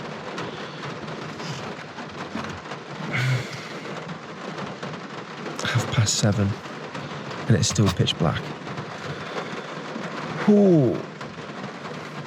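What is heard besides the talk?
heavy rain and thunder on a car at night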